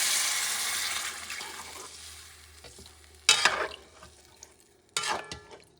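Soup with beef stock stirred in a caldero pot for Puerto Rican sausage soup, a steady wet simmering swirl with two sharper bursts of scraping and splashing partway through, no voices.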